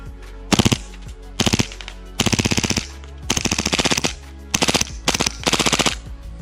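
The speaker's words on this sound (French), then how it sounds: "Test de tir du Extreme 45 Tokyo Marui." A Tokyo Marui Hi Capa 4.3 Xtreme .45 gas blowback airsoft pistol firing full auto in six or seven short bursts of rapid, sharp cracks, each burst under a second, separated by brief pauses, loud and close.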